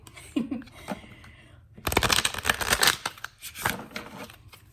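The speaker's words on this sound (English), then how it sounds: "I'll shuffle it one more time too" A tarot card deck is shuffled up close, with a few soft card flicks first, then a dense burst of riffling and patter for about a second, followed by scattered slaps of cards settling.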